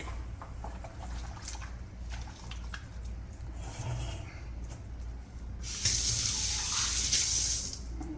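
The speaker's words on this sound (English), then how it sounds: "I'm going to wash my hands real quick." Running tap water streams steadily into a sink while hands are washed, a constant close hiss that swells brighter and louder toward the end as the flow hits the hands.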